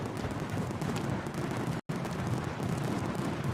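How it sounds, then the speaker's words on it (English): Crackling, booming fireworks play as a donation alert on a live plane-spotting stream at Newcastle Airport, a dense, steady burst lasting several seconds and cut by one brief dropout midway. "Oh, and the fireworks aren't working."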